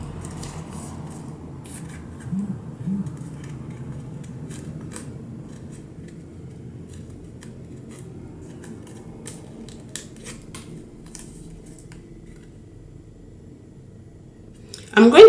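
Scissors cut into card at a crafting table with a few faint snips and rustles under a quiet speaking voice, ending in a louder handling clatter.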